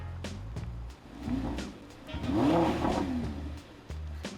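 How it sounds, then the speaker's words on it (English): A car engine revs up gently a couple of times, the rising and falling roar fairly quiet, with a few clicks around it. "press the gas a little, rev it up a little"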